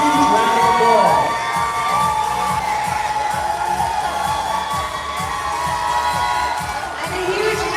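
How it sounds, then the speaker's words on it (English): A large audience at a beauty pageant coronation night cheers, whoops and applauds the top five finalists, a loud, sustained roar of shouting and clapping filling the hall with no talking over it. "let's please give our top 5 finalists a huge round of applause"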